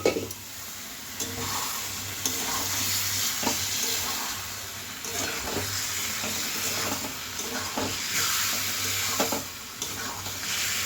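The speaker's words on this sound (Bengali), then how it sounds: "আর এই যে আলুগুলো এবার দিয়ে দেবো। দেখো কি সুন্দর তেল ছেড়ে একটা কালার এসে গেছে।" Potatoes fry in spiced oil for aloo dum, giving a continuous sizzling hiss with repeated scraping and stirring strokes and a low steady hum underneath.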